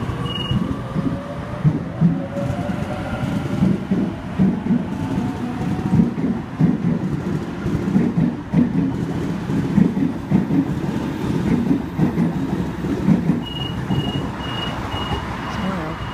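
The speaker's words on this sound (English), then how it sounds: "A51 now departing platform number 1, Richmond service." A Sydney Trains service pulls out of Milsons Point station, producing a loud, continuous rolling rumble with rhythmic wheel clatter. A high warning tone sounds briefly near the start and again near the end.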